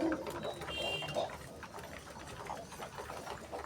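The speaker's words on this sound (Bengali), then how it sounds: "সেই দানা খাচ্ছে পড়ে পড়ে পায়রাগুলো।" Pigeons pecking at scattered grain in a home yard, with soft, faint cooing in quiet, low-level background noise.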